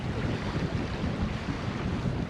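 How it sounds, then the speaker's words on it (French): Strong wind buffets a sailboat at sea, a dense, loud, continuous rush with wave wash beneath it and no speech. "On a du vent, dis donc, ouais."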